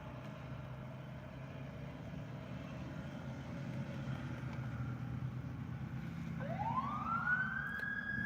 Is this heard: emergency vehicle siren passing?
yes